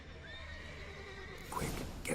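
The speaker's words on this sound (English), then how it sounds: "Gotta calm all the horses before they wake the guards." Horses whinny and neigh in a stable during a Witcher 3 game scene, with loud, drawn-out calls over a steady background and a sharp burst near the end.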